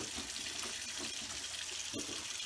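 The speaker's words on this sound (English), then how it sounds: "Just letting the hot water run until it gets nice and high." Hot water runs steadily from a kitchen tap into a sink, a continuous soft splashing rush heard fairly faint and unbroken throughout.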